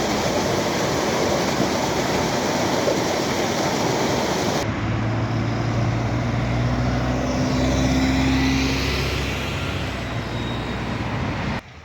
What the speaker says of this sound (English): I'm hearing running water down here, and I'm thinking that might be a little branch of the River Quaggy